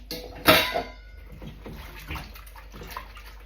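Recycling containers being washed up in a kitchen sink: a loud splash and clatter near the start, then gentle sloshing of water and light knocks of plastic, close by, with no talking.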